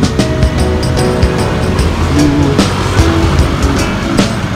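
A car at a Palawan campsite at Bacungan, its engine and road noise steady and fairly loud throughout, with scattered brief squeaks and rattles over the drone.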